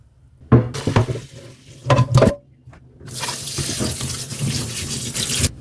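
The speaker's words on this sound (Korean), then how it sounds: "찬물로 깨끗이 한번 헹궈주세요." Parboiled chicken pieces for spicy Korean braised chicken are rinsed under cold running tap water in a sink, with short splashing bursts and clatter at first, then a steady loud gush of water.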